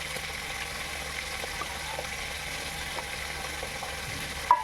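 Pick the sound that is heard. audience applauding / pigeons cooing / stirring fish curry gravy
stirring fish curry gravy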